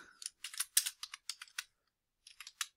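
A computer keyboard clicks in two quick, crisp bursts of keystrokes with a brief pause between them, close and dry, with no voices.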